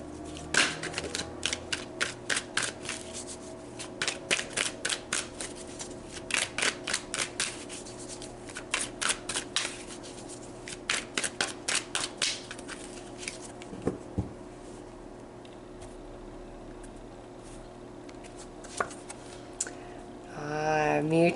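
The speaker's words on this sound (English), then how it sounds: "let's pull some more cards about that" Tarot cards shuffled in repeated quick riffling bursts, each a rapid flutter of clicks, separated by short pauses and then a longer quiet stretch.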